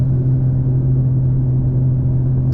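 Inside a 2024 BMW M4 Competition xDrive cruising at 80 mph in seventh gear, a steady low engine drone and road rumble fill the cabin, loud and unbroken, with no talking.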